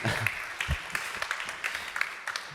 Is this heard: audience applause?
yes